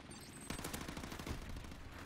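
A rapid burst of automatic gunfire from the video game Modern Warfare Remastered rattles out for under a second after a brief lull, close and punchy, then trails off into background game noise.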